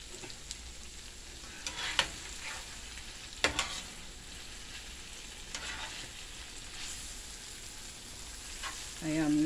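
Ackee and saltfish frying in a pan, a soft continuous sizzle with occasional utensil scrapes and clinks, fairly faint and close, with a brief voice-like tone at the very end.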